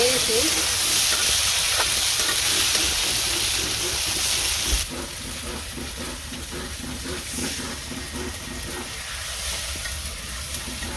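Spices frying in a pan in a home kitchen, a steady loud sizzle and hiss that drops a little midway, with occasional stirring scrapes and a voice speaking faintly in the background.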